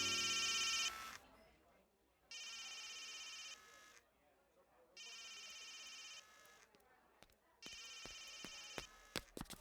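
A telephone rings in four long bursts separated by pauses, followed by a few sharp clicks near the end.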